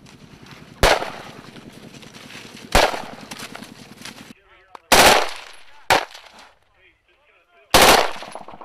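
Live-fire gunfire from Japanese and US soldiers' weapons during a training exercise in Japan, loud close bursts and single sharp shots separated by pauses, with rapid automatic fire early on and shouted voices between.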